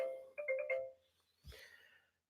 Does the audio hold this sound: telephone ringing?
yes